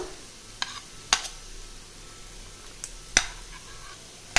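Chopped garlic fries in a pan with a soft, low sizzle, broken by a few sharp knocks and scrapes of a spoon stirring against the pan.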